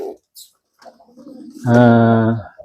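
A captive-bred bird from a breeding team calls, starting with a few faint chirps and soft notes, then a loud, sustained tonal call lasting nearly a second, heard close.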